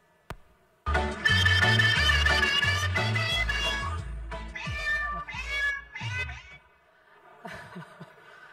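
Cats meow repeatedly in a lively run of clear, close cries. The calls are sometimes layered over each other, then trail off into a few sparser meows near the end.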